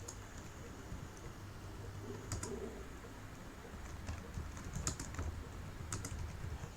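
Light keyboard typing at a computer while working in an Excel spreadsheet, a few sparse clicks over a steady low room hum, with faint bird cooing in the background.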